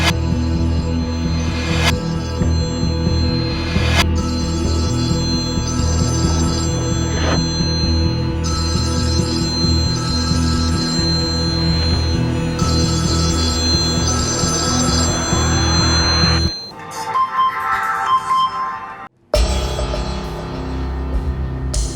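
A telephone rings in repeated bell-like bursts, fairly loud and near, over a dense background that continues steadily before dropping away near the end.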